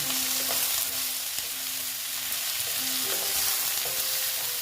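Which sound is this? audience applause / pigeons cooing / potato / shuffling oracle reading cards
potato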